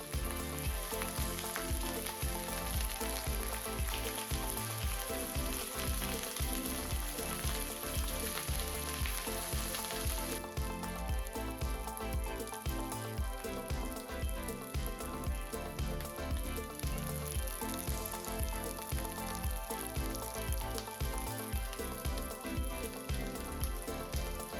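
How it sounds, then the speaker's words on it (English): Rice bars cut from a pressed rice loaf fry in hot oil for spicy tuna crispy rice, a dense, steady crackling sizzle that stays loud and close throughout with no talking. "ready to cut our rice loaf into rice bars so that we can fry them in oil"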